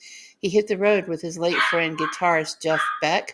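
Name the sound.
dog barking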